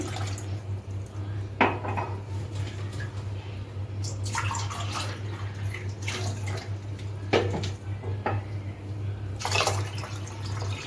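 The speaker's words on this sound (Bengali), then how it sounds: "দু কাপ জল দিয়ে দিচ্ছি" Water is poured into a cooking pot while making a mango drink, with a few splashy bursts and clinks of a vessel over a steady low hum, moderately close with no talking.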